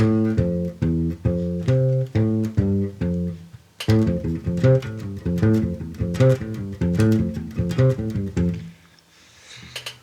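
A plucked melodic line of quick single notes runs steadily at moderate loudness, forming a flowing bebop jazz phrase that ends on a held note.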